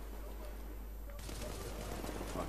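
Automatic sentry turrets firing in the video game The Division: dense, rapid bursts of gunfire that grow louder and busier midway, a continuous clattering barrage over background game noise.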